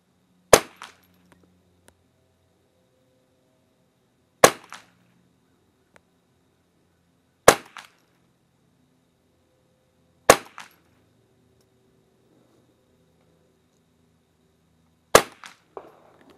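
Five sharp rifle shots from a Remington 550-1 and a Nylon 66 fired at a 50-yard target, irregularly spaced several seconds apart, each a loud close crack with a brief echo tail, no talking.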